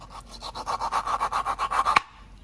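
Raw country mango being cut by hand to strip the pulp, a steady run of about a dozen rhythmic scraping strokes up close, ending in a sharp knock before quiet.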